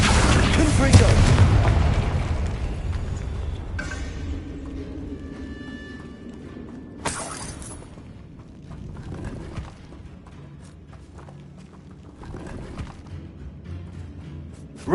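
Confringo blasting spells in a Harry Potter video game, heavy booming explosions at the start followed by further bursts and crackling impacts, with game ambience between blasts and a spoken spell incantation.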